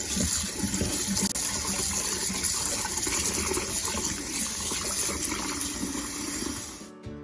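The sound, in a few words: washing and rinsing tomatoes under running water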